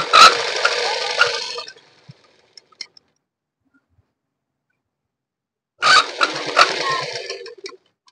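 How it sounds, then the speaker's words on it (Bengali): A sewing machine stitches along a pocket edge in two short bursts of rapid mechanical whirring, separated by a long quiet pause with a few faint clicks. "এই ধার দিয়ে আমি একটি চাপ সেলাই দিয়ে দেব।"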